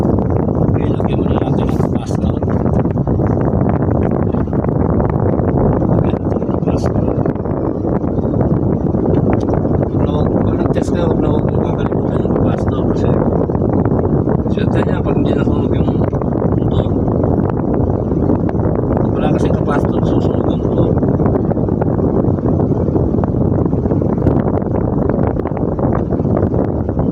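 Steady broadband whir of a newly installed electric fan motor, its rotor centred in the stator inside the housing, running continuously at close range with faint rustling on top.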